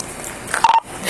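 A phone keypad gives a brief burst of dialing tones, a couple of short beeps in quick succession, heard close during a tense police encounter.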